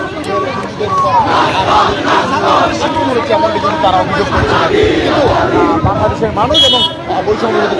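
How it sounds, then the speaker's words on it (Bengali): A crowd of students chants slogans in a street protest at the TSC Raju Sculpture area in Dhaka. Dense, loud, continuous rhythmic shouting from many voices. "ছাত্র জনতার যে স্লোগান সেই স্লোগানে কিন্তু উত্তাল হয়ে উঠেছে রাজপথ"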